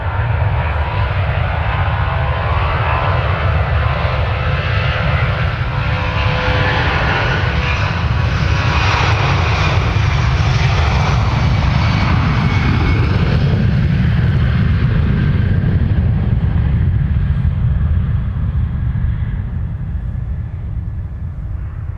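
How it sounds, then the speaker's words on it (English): A Boeing 757-300 jet takes off bound for Fort Myers, its engines building into a loud, sustained roar that swells and shifts in pitch over about twenty seconds, heard alone with no voices. "let's take a look at this 757-300 headed to Fort Myers"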